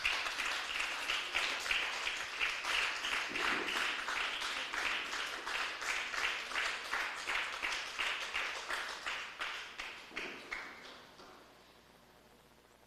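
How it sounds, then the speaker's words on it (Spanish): A church congregation claps in a steady, rhythmic beat, roughly two claps per second, sustained and full before fading out over the last couple of seconds. "Denle un fuerte aplauso al Señor, aleluya."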